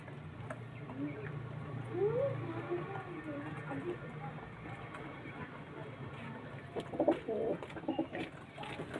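Pigeons in a loft holding about sixteen birds coo softly and repeatedly beneath a steady low hum, with a few louder calls and rustles near the end.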